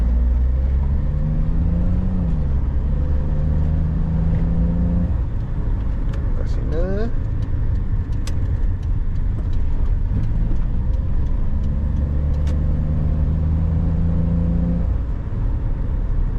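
A 2004 Perodua Kenari 1.0 EZ automatic pulls away, its steady engine drone rising and settling as it gets moving, heard from inside the car, with a few light clicks midway.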